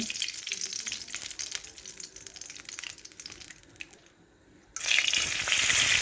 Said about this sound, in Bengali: কড়াই তেল দিয়ে দিচ্ছি